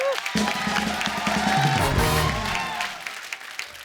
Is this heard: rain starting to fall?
no